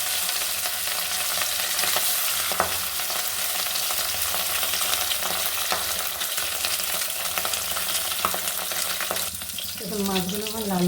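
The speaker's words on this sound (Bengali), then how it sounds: "মাছ ভাজার জন্য কড়াইয়ে আমি তেলটাকে ভালো করে গরম করে নিচ্ছি। এবার মাছগুলো এক এক করে লবণ হলুদ মাখানো আমি তুলে দিচ্ছি।" Salted, turmeric-coated fish frying in hot oil in a wok, a loud continuous sizzle with occasional stirring clicks, close up throughout.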